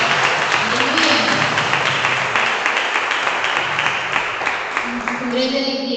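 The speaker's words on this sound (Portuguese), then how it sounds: "Vamos aplaudir o Senhor novamente? Ele merece." Congregation applauding during a church celebration service, a dense wash of clapping that continues steadily throughout, with voices and singing tones mixed in beneath it.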